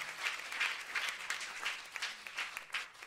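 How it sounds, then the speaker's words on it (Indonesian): A church congregation claps warmly during a sermon, a steady, fairly soft wash of many hands that continues evenly for the whole stretch without pause. "Boleh saya dengar tepuk tangan yang paling meriah dari Yesus, buat Yesus Tuhan kita"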